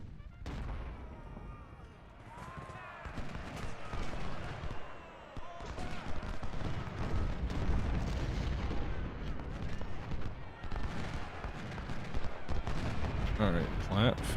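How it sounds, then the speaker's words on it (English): Artillery canister fire and rolling gunfire from a Civil War battle in Ultimate General: Civil War, heavy booms and crackling volleys rumbling continuously beneath a voice talking over the action. "Rarely do you see counter battery canister fire, but I approve it."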